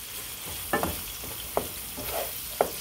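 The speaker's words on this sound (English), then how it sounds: "we're gonna get this sausage nice and all browned up." Sausage browns in a skillet with a constant close sizzle, punctuated by a few brief spatula scrapes and taps at irregular intervals.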